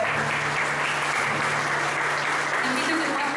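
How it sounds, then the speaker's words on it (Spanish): Loud, dense applause from a church congregation at a Sunday service, steady and continuous throughout, with a faint low hum beneath. "Dale un fuerte aplauso al Señor."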